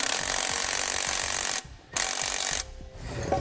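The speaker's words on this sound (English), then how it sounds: "I'll come back with a 9/16 socket and tighten up that bolt" Rapid ratcheting clicks from a 9/16 socket tightening a bolt while fitting a helper spring to a 2017 Winnebago, loud and close, with two brief pauses between bursts.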